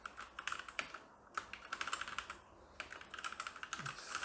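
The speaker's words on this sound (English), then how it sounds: "I'm not used to typing on mechanical keyboard" Typing on a Sharkoon SKILLER SGK30 mechanical keyboard with Khali Red switches, with close, crisp keystroke clicks in quick irregular bursts and a short pause between runs.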